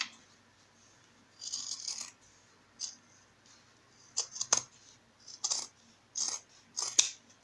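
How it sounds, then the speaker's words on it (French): Scissors snipping off excess fabric while sewing a pouch in a couture workshop, a series of short crisp cuts in separate bursts, close and alone. "Alors une fois que ça c'est fait, on vient couper l'excédent."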